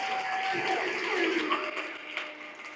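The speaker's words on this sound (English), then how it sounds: "just a big round of applause for our team" A crowd at a mandatory orientation applauds its team, a short burst of clapping and cheering heard close, with voices mixed in before it fades.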